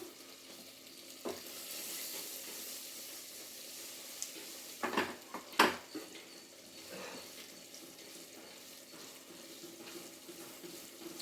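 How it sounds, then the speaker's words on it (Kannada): Paneer frying in a pan, a quiet steady sizzle with a few louder stirring clatters around the middle, nobody talking. "ಪನ್ನೀರ್ನ ಒಂದು ಸ್ವಲ್ಪ ಫ್ರೈ ಮಾಡ್ಕೊಬಿಡೋಣ"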